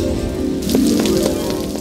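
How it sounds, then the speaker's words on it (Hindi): Rain pours down in an Indian children's cartoon, a dense, loud, continuous hiss of drops striking surfaces, heard alone without voices. "ओए देखो कितनी बरसात हो रही है"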